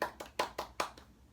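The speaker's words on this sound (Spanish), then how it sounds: "un aplauso" Hand clapping, about six claps in a slightly uneven rhythm, close and fairly quiet, with no talking.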